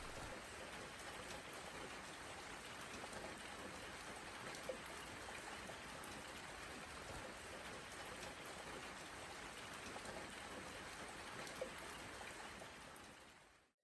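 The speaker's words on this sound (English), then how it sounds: "All it took was a day of soft rain for me to feel normal again" Soft rain falls steadily in a summer garden near a bird bath, a faint even hiss with scattered drips and a couple of louder drops, unbroken and with no voices.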